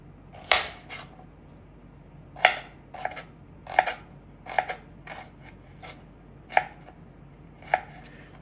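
A knife finely chops raw cucumber on a board for acar, crisp close cuts landing in irregular bursts, some single and some in quick pairs, with quiet pauses between and no talk.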